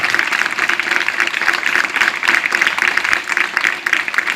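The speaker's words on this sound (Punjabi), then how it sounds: "ਜ਼ੋਰਦਾਰ ਤਾੜੀਆਂ ਨਾਲ ਉਹਨਾਂ ਦਾ ਸਵਾਗਤ ਕੀਤਾ" Dense, steady applause from an audience at a government girls' senior secondary school, welcoming the principal and staff; continuous clapping fills the whole stretch with no pauses.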